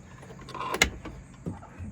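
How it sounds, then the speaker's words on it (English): Trunk lid of a 1968 Shelby GT500 in Highland Green popping open, heard as a short mechanical click and a sharp latch clunk close by, followed by a softer thump a moment later. "Trunk pops easy."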